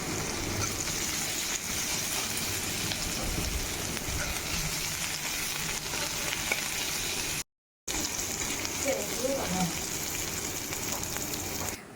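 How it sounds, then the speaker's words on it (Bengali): Chopped onions fry in hot oil with a steady, close sizzle that runs throughout, broken by a brief gap, while faint stirring is heard. "সেটা দিয়ে পেঁয়াজটা আমি এবার ভেজে নেব।"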